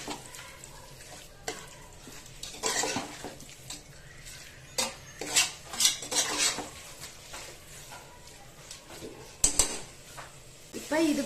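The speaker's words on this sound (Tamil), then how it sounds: "நல்லா சுருள சுருள நல்லா வதக்கி விட்டுக்குவோம்." A spoon scrapes and clatters against a pan while green chicken masala is stirred and sautéed, with irregular metallic knocks and a soft sizzle underneath; a voice talks at times.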